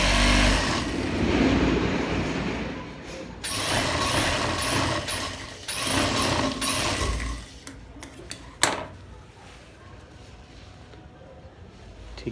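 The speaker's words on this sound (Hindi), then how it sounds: "ये हाणे सिलाई कंदो वेंदासीं।" Electric sewing machine stitching a gents pajama runs in bursts of fast whirring and clattering, close and fairly loud, pausing between runs with a few sharp clicks.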